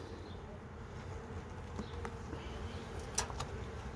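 Honeybees buzz softly around an open hive during a spring inspection, a faint continuous hum with a few brief clicks and handling sounds, no talking.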